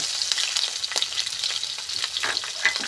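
Chopped garlic and green chillies fry in hot oil for mango pickle, giving a loud, dense, continuous sizzle with crackling pops throughout.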